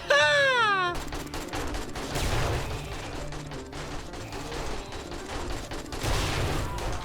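Rapid bursts of AK rifle fire in the zombie survival game 7 Days to Die, dense and continuous with crashing impacts throughout, following a short rising musical chime at the start.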